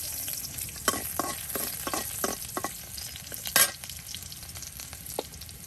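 Chopped onion and garlic frying in oil in a rural kitchen, a continuous close sizzle broken by repeated scraping strokes of a stirring spoon against the pan.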